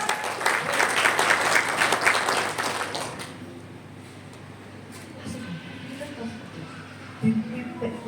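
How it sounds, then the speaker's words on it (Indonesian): A church congregation at a Sunday evening service claps together in a dense burst lasting about three seconds, then the applause dies away into quiet room tone with faint movement. "tepuk tangan dulu ya, tepuk tangan bagi kemuliaan Tuhan"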